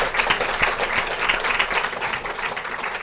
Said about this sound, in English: First, give them a round of applause